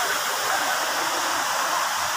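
Waterfall at Bolinao, a steady broadband rush of falling water heard nearby, constant and even throughout with no voices.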